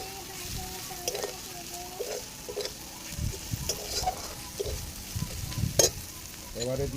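Onion and chilli powder fry in a pan for a Bengali steamed mourala fish dish, a steady close sizzle broken by repeated scraping stirs and clinks of a spoon throughout.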